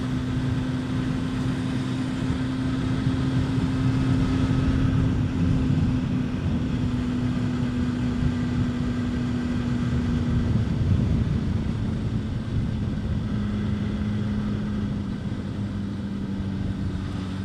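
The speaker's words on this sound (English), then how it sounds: "Wow, this wind is wild." Strong gusting wind roars steadily across a motorcycle rider's helmet on the winding, tree-lined Chuckanut Drive, mixing with a droning engine tone in a loud, continuous rush.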